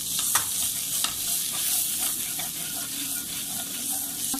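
Turmeric and garam masala roasting in a pan for turnip bharta: a steady close sizzle with occasional scrape and stir clicks, continuous throughout and with no one speaking.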